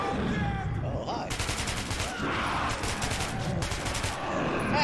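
Bursts of rapid automatic gunfire in the video game Metro 2033, coming in fast rattling volleys over a rumbling background, with shouting voices in between.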